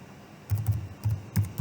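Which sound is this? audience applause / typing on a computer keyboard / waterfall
typing on a computer keyboard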